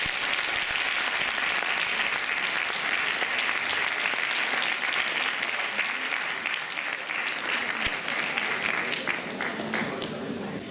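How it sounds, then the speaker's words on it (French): An audience at the final of a student eloquence contest at a business school in Reims applauds the departing jury, with dense, sustained clapping that fills the hall at steady loudness throughout. "Vous pouvez les applaudir, s'il vous plaît."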